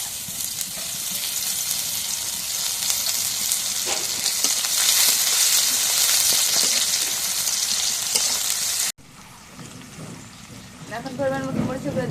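Bay leaves and oil sizzle loudly in a pan while beef is cooked for iftar, a dense, rain-like crackle that holds steady and then cuts to a quieter sizzle with stirring and faint background voices.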